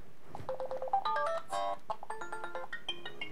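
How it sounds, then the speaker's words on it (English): A phone ringtone plays on a Nexus 5 running the Android L preview: a bright, melodic run of quick electronic notes, close and clear, rising and stepping through a short tune with no talking. "phone ringtone"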